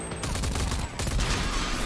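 Rapid gunfire in the video game Rage 2, a dense fusillade of loud, close shots with a brief break before the shooting resumes.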